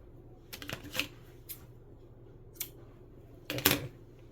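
Scissors snip through knitted yarn at a knitting machine, a few soft, close cuts spread apart with a louder double snip near the end, no talking.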